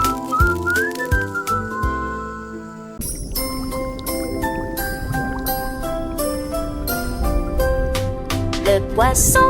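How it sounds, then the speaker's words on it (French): Melodic whistling in a French children's song carries a bright tune over light music, the notes sliding and hopping in a lively rhythm. "Le poisson Flippy siffle en faisant des vœux."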